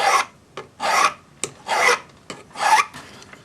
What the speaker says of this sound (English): we'll use our number 2 cut ring file for smoothing inside these